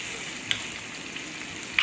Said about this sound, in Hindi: ये देखिए हमारा लहसुन फ्राई हो रहा है